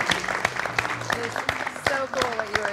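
Town hall audience applauds, brief scattered clapping with sharp individual claps mixed with overlapping voices and talk throughout.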